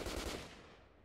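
Gunfire in a Garry's Mod Star Wars RP session, a short, loud rattle of rapid shots at the start that quickly fades into a decaying echo within about a second.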